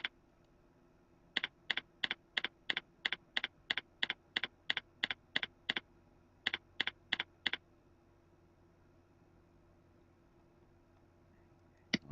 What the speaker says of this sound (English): We'll type generators and press down.